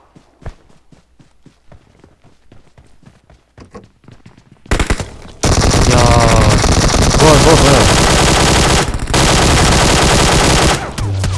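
Rapid gunfire bursts loudly in mobile PUBG (Battlegrounds) over game effects and music, following a stretch of quieter footsteps and clicks.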